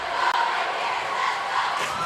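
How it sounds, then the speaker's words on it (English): A crowd cheering and roaring inside a high school gymnasium during a volleyball match, a continuous loud wash of voices filling the space. "What a crowd."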